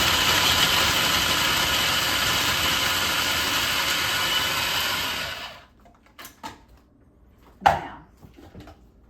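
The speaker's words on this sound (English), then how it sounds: "I'm processing my, I got a little over a cup of pecans in my processor." Food processor chopping a little over a cup of pecans, a loud, steady whirring grind for about five seconds before it shuts off, followed by a few faint knocks and a brief clatter.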